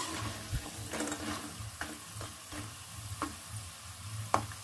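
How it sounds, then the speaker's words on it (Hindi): Besan-coated peanuts fry in hot oil, giving a steady close sizzle with light stirring scrapes and occasional small pops throughout, no voices. "देखिए इस तरीके से हमें फ्राई करना है खस्ता होने तक।"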